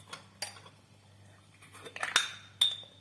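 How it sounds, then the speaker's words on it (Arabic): A spoon stirring Moroccan harira soup in a pot gives a few sharp metallic clinks and scrapes, sparse and close, with quiet gaps between them. "ندوروا الحريره"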